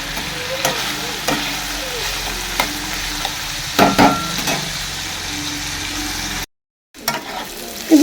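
Pancake batter frying in a pan, a continuous close sizzle with occasional spatula scrapes and taps, briefly cutting out near the end.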